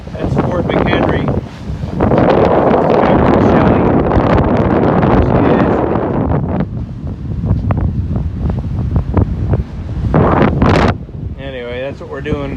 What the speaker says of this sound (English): It's probably very windy, so you probably can't hear my voice.